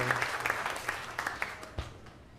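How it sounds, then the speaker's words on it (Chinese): A congregation applauds during a Taiwanese-language Sunday church service, with scattered, uneven claps rising and falling over about two seconds, mixed with murmuring voices in the room. "咱鼓掌"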